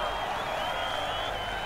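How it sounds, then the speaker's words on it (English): A crowd in the video game Road 96 cheers and applauds the president in a dense, continuous roar with a steady hiss of clapping that holds at an even level. "let us cheer him to show our appreciation"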